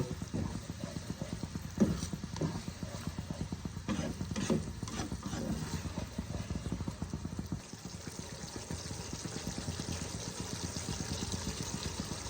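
Matar paneer being stirred and mixed in a pan, a steady run of soft scraping and clattering strokes from the spoon against the pan, fairly close, with no talk over it.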